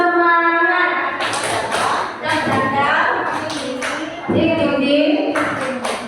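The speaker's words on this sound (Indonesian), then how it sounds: "Ayo kita tepuk semangat." A group of women performs the tepuk semangat, a rhythmic clapping chant: sharp, near claps punctuate loud sung and shouted syllables in a quick, patterned beat.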